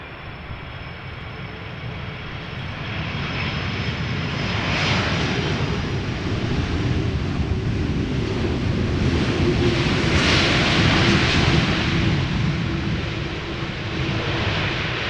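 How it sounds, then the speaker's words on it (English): An Airbus A330 airliner arriving from Bonaire at Amsterdam Schiphol roars past, its broad engine rumble swelling and holding steady for the whole stretch, with no voices. "here is the A330 arriving from Bonaire"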